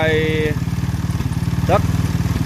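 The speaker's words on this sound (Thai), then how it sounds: "เดี๋ยวจะติดเครื่องไป" FD300 buggy engine starting and settling into a steady, loud, rapid chugging idle with a rhythmic mechanical pulse, while a voice speaks over it briefly.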